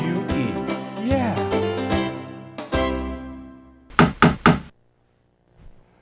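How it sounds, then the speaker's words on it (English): Three sharp knocks on a door, close and loud, coming after a stretch of sung music and followed by a short silence. "Did you hear that knock, knock, knock, boys and girls?"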